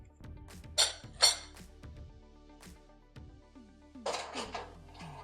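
A baked potato lifted off the rack of a camp oven, with a few sharp metallic clanks and clinks of the rack and lid, near and intermittent with no talk.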